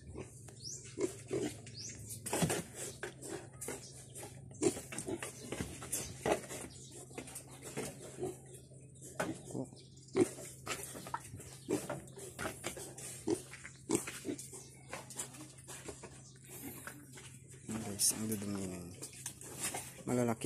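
One-month-old piglets grunting and oinking while feeding on sweet feed, a busy, continuous chorus of close grunts, squeals and snuffles, with a person talking over it.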